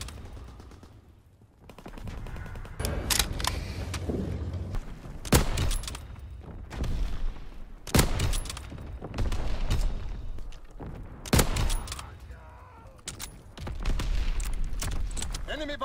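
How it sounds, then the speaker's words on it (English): Aircraft strafing fire in the World War II shooter Call of Duty WW2 hits as dense, repeated bursts of rattling gunfire and booming impacts over a steady rumble, with in-game voices now and then. "Call for a strafing run."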